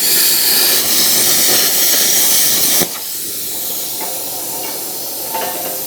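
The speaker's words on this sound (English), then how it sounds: "I love plasma cutting" Plasma cutter slicing through metal in a craft workshop: a loud, steady hissing roar for about three seconds that cuts off abruptly, leaving faint background noise with a few small clicks.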